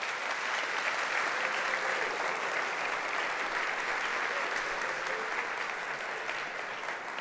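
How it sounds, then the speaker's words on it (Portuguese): A church congregation applauding together in a steady, dense burst of clapping that stays even throughout, with no talking. "Uma salva de palmas para vocês."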